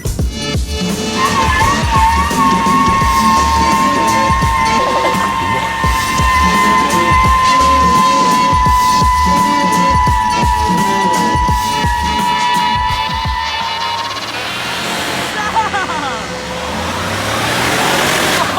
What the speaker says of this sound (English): Chris is about to do a burnout right now